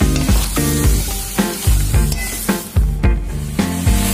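Chicken changezi sizzles in a hot pan while being stirred, with repeated scraping strokes every half second or so cutting through a loud, constant frying hiss, close up and with no voices.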